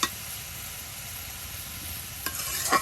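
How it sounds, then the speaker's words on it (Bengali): Malabar spinach and water spinach stir-fried in oil, giving a steady soft sizzle and hiss with a couple of brief stirring scrapes near the end, close by and alone. "তেলে ভাজা পুঁই শাক ও আপনার কলমি শাক দিয়ে সুস্বাদু মজাদার শাক ভাজি।"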